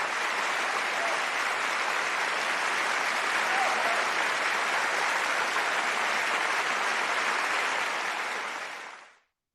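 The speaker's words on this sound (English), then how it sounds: "Give King Adam a big round of applause for me, everybody." An audience gives a sustained round of applause, a thick, even wash of clapping that holds steady for several seconds before cutting off sharply at the end.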